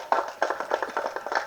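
An audience claps at a Tamil movie audio launch event, a quick run of sharp, close hand claps in an irregular rhythm, loud and alone.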